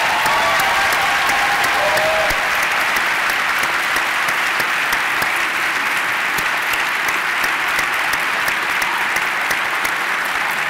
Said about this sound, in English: So please give them a round of applause.